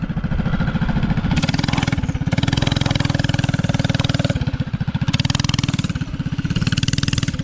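A mini bike fitted with a Predator 212 engine runs steadily close by, its loud, rapid chugging putter rising in bursts of throttle and settling back, with no talk over it.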